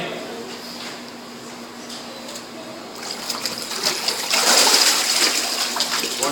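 Water splashes and gushes as a person is immersed during a church baptism, the splashing swelling loudly partway through amid nearby voices.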